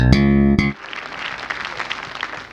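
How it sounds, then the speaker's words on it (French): A French TV studio audience breaks into dense, steady applause right after a loud sustained musical chord cuts off, the clapping filling the room evenly for the rest of the moment. "Et vous l'applaudissez très fort."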